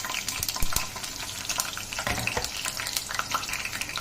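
Green chillies fry in hot oil in a pan on a home stove, spluttering with a soft, continuous sizzle. Scattered crackling pops rise out of it, fairly faint and with no talk over them.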